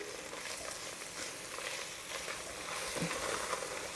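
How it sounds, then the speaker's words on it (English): Garlic fries in a pan for a Bolognese sauce with a steady, close sizzle and soft crackle. The sound is dense and even, with a brief scrape near the end and no talking. "we're frying the garlic through"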